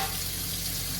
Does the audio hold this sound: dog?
no